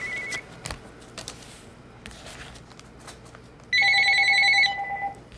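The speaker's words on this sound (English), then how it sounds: "Phone call." A telephone rings with a loud electronic tone burst that holds for about a second near the end, after quieter rustling and handling noises and a brief earlier chirp.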